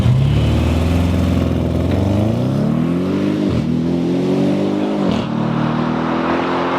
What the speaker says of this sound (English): That is literal supercar acceleration right there.